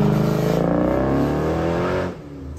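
A Dodge Charger SRT8 Super Bee accelerates hard nearby, its V8 roar rising steadily in pitch for about two seconds before cutting off abruptly.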